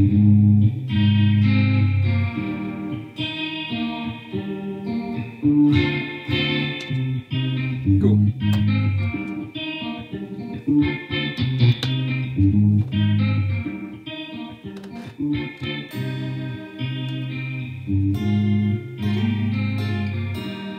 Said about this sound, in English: I'm gonna show you how to play the second guitar part over that on my Strat.